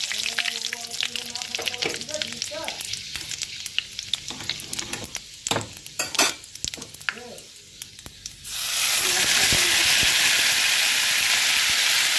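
Bay leaves and panch phoron hit hot oil in a pan, starting with scattered crackles and pops, then bursting into a loud, steady sizzle in the final seconds.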